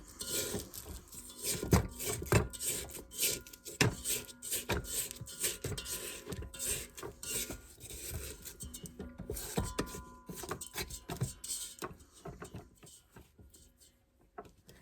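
Cookie dough stirred by hand in a bowl after the Ankarsrum mixer with heavy duty beater assembly is switched off, giving a continuous busy clatter and scraping of utensil against bowl, close and steady throughout with no talk.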